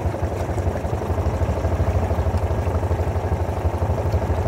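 A Honda outboard engine idles while submerged, giving a continuous, close, low rhythmic chugging that holds steady throughout with no talking.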